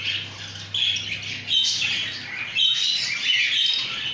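A male cockatiel sings inside a breeding nest box, with bright, warbling squawks and chirps coming in uneven bursts, fairly close but moderately quiet against a faint low hum.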